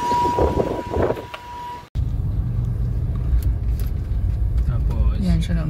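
A car rolls out through an open residential gate with a low engine rumble and wind noise. A person talks over it from close by, and a short break cuts the sound partway through.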